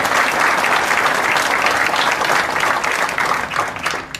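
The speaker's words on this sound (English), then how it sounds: "So let's give Cole a round of applause for making that commitment." A graduation crowd applauds a graduate who has committed to enlisting, loud and close, thick clapping from many hands that stays strong for a few seconds and starts to thin at the end.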